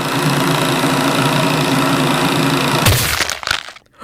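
Wood chipper in a video game grinding loudly and steadily, a dense harsh churning roar that breaks into crunching clatter near the end before cutting off, with no talking over it.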